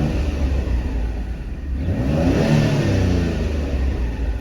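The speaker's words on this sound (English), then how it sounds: "So I'm gonna rev it up a little bit, and that should come down." A 1992 Mitsubishi 3000GT VR4 with an overheating problem revs up, its engine rising in a loud, close rumble and then settling back, with no talk.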